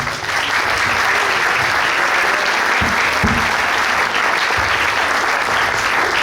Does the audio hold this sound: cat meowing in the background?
no